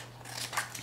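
Scissors snip through cardmaking paper in a few quick, crisp cuts, close and fairly loud, the last snip the sharpest, with no talking.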